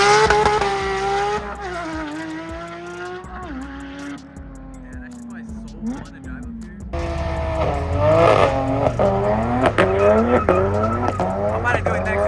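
BMW F80 M3 revving hard toward redline, loud climbing engine sweeps repeated close by with a brief lull midway, then more aggressive high revs, with people talking over it.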